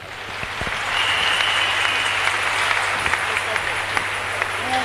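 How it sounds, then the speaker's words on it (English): An audience at a celebration with a cake cutting gives a steady round of hand clapping throughout, a dense wash of claps with occasional sharper individual claps and faint voices underneath. "Let's give the Lord a hand clap."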